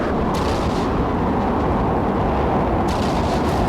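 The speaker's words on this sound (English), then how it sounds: "I think that was one of their magazines going up this time." An enemy ship's magazine detonating in the naval combat game From the Depths, a loud, sustained rolling boom with heavy low rumble that holds steady throughout, no voices over it.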